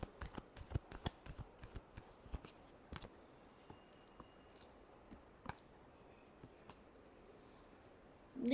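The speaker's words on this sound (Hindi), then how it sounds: "Last shuffle." Tarot cards are shuffled close by in quick, crisp riffles and taps, soft and irregular, with a brief louder rustle at the very end.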